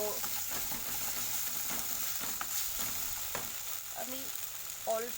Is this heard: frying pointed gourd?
yes